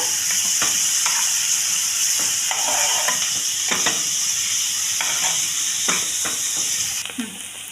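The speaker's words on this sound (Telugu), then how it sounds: "ఇలాగ సన్నగా కట్ చేసుకొని ఫ్రై చేసుకోవాలి కాస్త" Thinly sliced onions frying in a pan for keema, loud continuous sizzle with repeated stirring scrapes, no talking.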